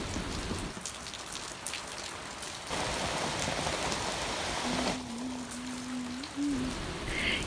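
Steady rain patters on leaves and surfaces, dense and continuous, with a brief faint tonal hum midway and no speech.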